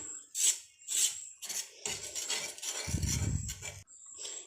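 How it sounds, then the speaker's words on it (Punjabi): Rough rasping and rubbing as a lemon is scrubbed across a worn, badly stained roti tawa griddle with a little water, in irregular short strokes with a heavier low scraping burst midway; no talking. "ਇਹ ਤਵੇ ਦੇ ਉੱਪਰ ਵੀ ਆਪਾਂ ਚੰਗੀ ਤਰ੍ਹਾਂ ਸਾਰੇ ਕਿਤੇ ਨਿੰਬੂ ਨਾਲ ਫੇਰ ਦਿੱਤਾ"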